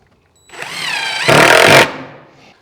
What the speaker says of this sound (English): I'm just hooking it in with a couple of those 2-inch deck screws